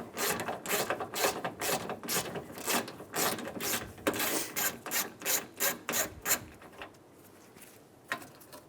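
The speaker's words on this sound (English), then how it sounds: "Using a 10mm socket, we're going to remove the bolt for the ground strap off of the upper radiator support." A 10mm socket ratchet clicks rapidly through repeated strokes, removing a bolt from the upper radiator support of a 2003-2008 Honda Pilot, close and rhythmic, then slowing to a few final clicks.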